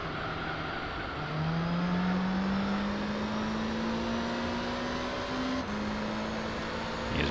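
Race-car engines from the game Gran Turismo 3 hold a steady, rising drone as a Toyota closes in from behind, with the pitch climbing slowly and then shifting sharply near the end.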